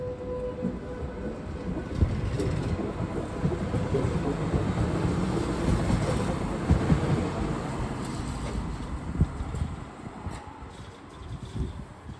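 A Stadtbahn Bonn light rail train on Line 66 beside the Rhine rumbles past steadily for several seconds, with clattering wheels and occasional louder knocks over a continuous roar.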